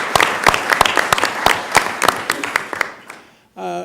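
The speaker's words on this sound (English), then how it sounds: "let's give yourselves a round of applause for all the time you've been taking." A gathered audience at a regional economic development council kickoff applauds in sparse, distinct claps that thin out and fade after about three seconds, followed by a brief burst of a voice.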